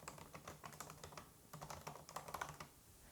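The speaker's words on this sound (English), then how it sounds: "let me just go ahead and test it out, even though I've already used this kind of keyboard many times before" Quiet typing on a 16-inch MacBook Pro keyboard, a quick run of soft, close keystrokes with a short pause midway, low in level and with no voice.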